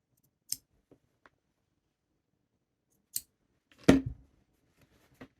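Scissors give a few short, sharp snips while trimming serger thread ends close to an overlocked seam, isolated crisp clicks separated by quiet pauses.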